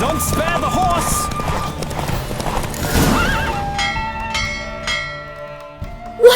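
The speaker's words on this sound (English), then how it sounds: "Don't spare the horse!" Horse in a race in the video game The Witcher 3, galloping hoofbeats and loud neighing over music and voices, thinning out toward the end with bell-like tones.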